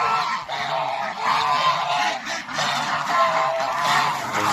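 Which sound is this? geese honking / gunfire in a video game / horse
geese honking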